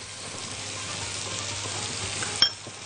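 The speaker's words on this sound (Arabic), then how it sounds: "نقلب كويس" Ground meat with orzo and black pepper is stirred in a pan, a soft scraping shuffle over a quiet continuous frying sizzle, ending with a single sharp clink of the utensil against the pan.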